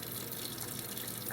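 Tap water pours steadily over an old 8-fluid-ounce glass bottle with an applied color label being cleaned at a sink, a continuous close rushing and splashing hiss.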